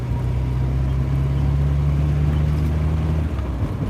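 Car driving along on the way to a market, a steady low engine hum with road rumble, moderately loud and constant throughout, with no talk.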